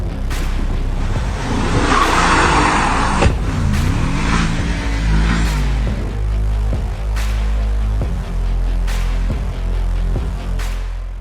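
An old Mercedes races an Audi, engines roaring loud and close with a skid early on, then a steady drone punctuated by repeated sharp bangs or thumps at intervals.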